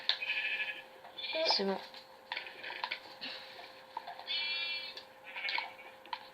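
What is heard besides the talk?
sheep bleating in a video game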